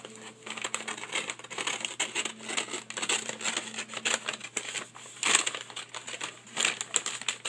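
Scissors cut through a paper bag for a mini album, giving a continuous close crinkling and snipping with scattered louder crunches as the paper is worked, no voices.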